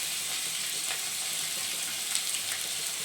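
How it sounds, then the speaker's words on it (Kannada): Beans and carrot fry in a pan with a steady, close sizzle, a continuous crackling hiss that stays even throughout with no voices. "ಸ್ವಲ್ಪ ಫ್ರೈ ಮಾಡೋಣ ಫಸ್ಟು."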